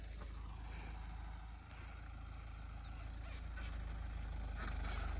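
Off-road vehicle engine running steadily through an off-roading outing, a continuous low rumble that stays fairly even and close, with faint background noise and no talk.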